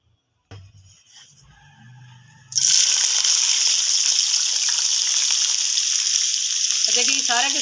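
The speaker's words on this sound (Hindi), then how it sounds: "अब ये सारी चीज़ें एक दफ़ा इसमें फ्राई करूँगी।" Chopped ingredients hit hot ghee in a pan for a white chicken karahi. A few light clinks and handling noises come first, then a loud, continuous sizzle erupts and holds steady to the end, close and bright.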